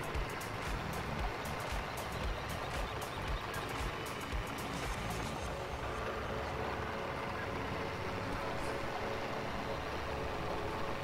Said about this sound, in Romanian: Ducem tractorașul în bază, pentru că acolo avem nevoie de el.